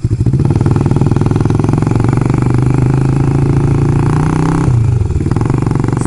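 A loud motorcycle engine runs close by with a steady rapid thrum and mechanical clatter, and it briefly dips and shifts in tone near the end.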